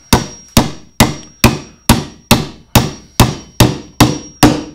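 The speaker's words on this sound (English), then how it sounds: "You can see that nailing like this is not most effective." Eleven evenly spaced hammer blows drive a nail sideways into wood, each a loud, sharp crack with a short ringing decay, steady and close with no talking.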